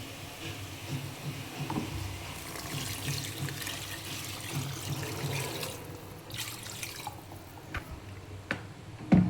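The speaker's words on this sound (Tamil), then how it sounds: "பரட்டிட்டு உங்களுக்கு தேவையான தண்ணி ஊற்றணும்." Water being poured into a cooking pan over fried masala, a steady splashing trickle that runs for several seconds with a few drips and clinks, fading toward the end.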